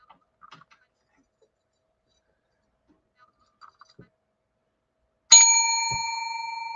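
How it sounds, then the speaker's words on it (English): A small hand bell gives one clear, bright ding that rings out and decays slowly, after a few faint clicks and quiet handling noises in near silence. "I have my little bell. And when I ding it, usually I do it a couple times."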